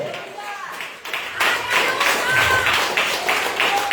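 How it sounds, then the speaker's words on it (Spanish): Church congregation claps during a Spanish-language worship service, a rhythmic patter of hands rising partway through and continuing under faint voices and some sustained tones. "Si puede, darle un aplauso al inefable"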